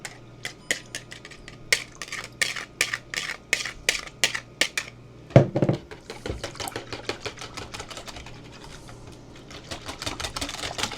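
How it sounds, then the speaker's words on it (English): Ice cream ingredients, chilled beforehand, are whisked together in a bowl: a quick run of sharp, regular clicking taps from the whisk, then a burst of louder, denser scraping and rattling, close and fairly loud with no talking. "There we go, so it all whisks"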